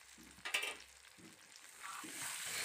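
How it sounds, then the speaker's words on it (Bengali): Ginger garlic paste with chili and turmeric powders fries in oil for a Bengali fish curry, a soft sizzle with brief stirring scrapes, close and fairly quiet, with no talk. "এবার ভালো করে মশলাগুলোকে আমি কষিয়ে নেব।"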